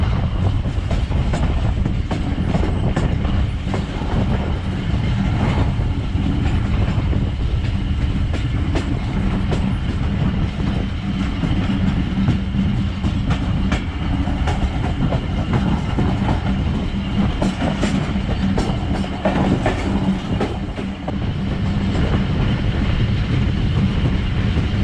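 The Karachi Express runs on rails between Multan and Lahore, a loud, continuous rumble of carriages with rhythmic clickety-clack of wheels over rail joints throughout, no talking.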